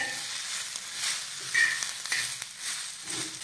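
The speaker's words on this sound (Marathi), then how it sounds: "तर आता यामध्ये घालूयात लसूण पाकळ्या आणि आलं आणि हे मिनिटभरासाठी व्यवस्थित परतून घेऊयात।" Garlic cloves and ginger sizzling in a pan with browned onions while being stirred for a Maharashtrian bhogi vegetable dish; a steady close frying hiss with soft stirring scrapes and no talking.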